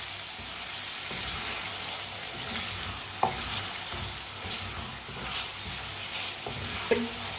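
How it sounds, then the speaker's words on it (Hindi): Chicken liver (kaleji) frying and being stirred in a pan, a soft continuous sizzle with occasional scraping taps of a spoon, moderately close and fairly quiet. "कलेजी को 2-3 मिनट के लिए मैंने भून लिया, पका लिया 2-3 मिनट के लिए"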